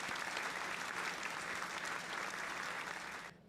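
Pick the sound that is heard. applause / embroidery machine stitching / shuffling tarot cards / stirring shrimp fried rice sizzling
applause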